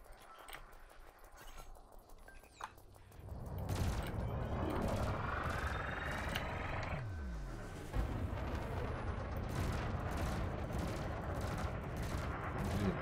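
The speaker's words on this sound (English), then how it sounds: "Get closer, engage with the multi-cannon." Rapid multi-cannon fire aimed at a harmless practice drone in the space game Elite, a sustained dense burst of repeated shots that starts after a quiet stretch and continues loudly with a brief dip midway.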